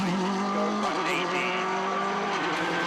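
A Subaru rally car at the Monte Carlo WRC rally roars loudly as it launches from the stage start, engine revs climbing and tires scrabbling, with a commentator's voice running over it.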